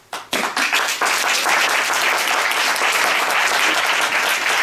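An audience at a debate bursts into applause: dense, loud clapping from a crowd that starts with a few claps and quickly swells into steady sustained applause.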